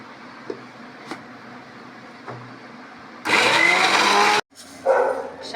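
A mixer grinder runs loudly for about a second, grinding sautéed red pumpkin for chutney, then stops briefly and restarts in a shorter burst, with quiet kitchen sounds before it starts.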